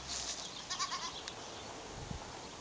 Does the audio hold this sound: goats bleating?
yes